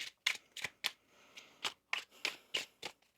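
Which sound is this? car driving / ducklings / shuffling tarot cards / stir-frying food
shuffling tarot cards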